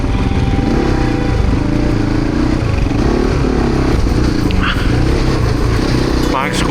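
A loaded adventure motorcycle carrying a tent runs steadily on a gravel mountain track, its engine droning loud and close throughout, with a person speaking over it.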